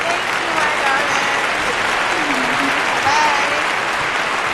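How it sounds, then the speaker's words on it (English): A studio audience claps steadily through a round of applause on a Saturday morning radio show, a dense, even wash of hands that holds at a fairly loud level, with a faint voice or two in the background. "All right, a round of applause for you."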